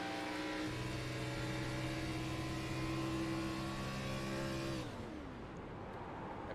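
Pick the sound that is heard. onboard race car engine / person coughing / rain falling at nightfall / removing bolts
onboard race car engine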